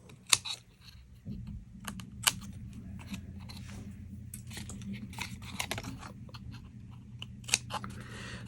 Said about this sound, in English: And then I'm going to have to trim up this side